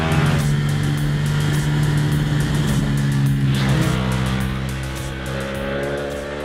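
A Ducati Panigale V4 superbike engine roars loud and close as it accelerates on a road, a sustained rising growl with strong steady harmonics and no speech over it.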